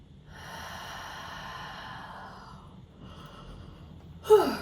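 A person yawns alone in a quiet meditation setting, a long drawn-out breathy exhale lasting a few seconds, followed by a short sharp breath or snort at the end.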